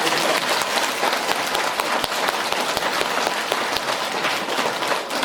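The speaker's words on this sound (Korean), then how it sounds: "박수 한번 치세요" A congregation at a Catholic prayer gathering claps together in a dense, steady burst of applause that fills the room for several seconds.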